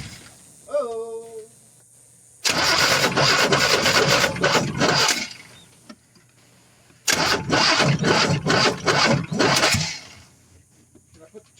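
A Buick V6 car engine, freshly worked on at the carburetor, cranks and catches twice, each time roaring into a rough, loud run for a few seconds before cutting out, close by, with brief voices around it.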